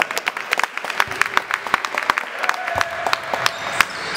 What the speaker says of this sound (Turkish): Eray alkışı aldı, Yağız'a bıraktı yerine.